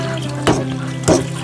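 Water runs from a tap while someone fetches water, a steady trickle beneath a constant low hum, broken by two splashing surges roughly half a second apart.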